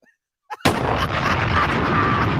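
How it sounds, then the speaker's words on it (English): Big explosion sound effect: after a short quiet stretch, a sharp blast hits and then rolls on in a loud, sustained roar and crackle. "You gotta give him the big explosion."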